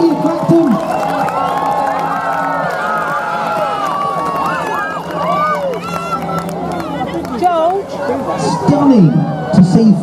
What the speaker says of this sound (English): Let's give them a huge cheer for the fireworks which are coming out of the wings now.